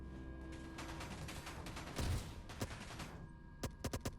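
A tactical rifle with a grip fires in a Space Engineers weapons mod, a quiet mechanical rumble with one heavier burst midway, then a quick series of sharp, evenly spaced shots near the end.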